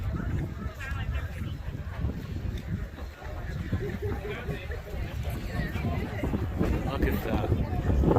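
Wind buffets the microphone during a Crazy Horse Volksmarch hike, a continuous rumbling roar with short spoken remarks over it.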